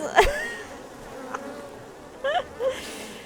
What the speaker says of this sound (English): The fan pushed him into the bees!